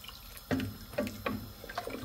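Water is poured into a pot of frankfurter soup, with splashing, gurgling pulses that recur about every half second, close and moderately loud.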